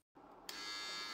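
A Philips HC3505 hair clipper switching on after a moment of silence and running with a steady, close, high buzzing whir.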